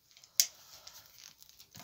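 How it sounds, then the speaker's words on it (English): Wire cutters snipping through a willow stick for lantern making give one crisp, sharp snap, followed by faint rustling and handling noise. "I'm going to use wire cutters, but you can use garden secateurs or strong kitchen scissors"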